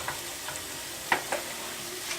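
Prawns sizzle steadily in a hot pan while being stirred, with soft scraping clicks and a couple of sharper knocks of the utensil, close and fairly quiet.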